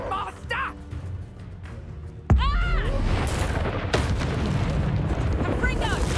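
A heavy blast from the Confringo fire spell in the game Hogwarts Legacy hits hard and loud, followed by a sustained roaring rumble, whooshing effects and further impacts over continuous game noise.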